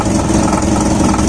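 A Toyota Lite Ace with a 5K engine runs at a steady idle, a close, even mechanical rumble with no talk over it.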